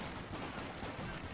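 Machine gun fire in Company of Heroes 2 rattles as a dense, continuous wash of gunfire with no clear gaps, sustained and fairly loud throughout.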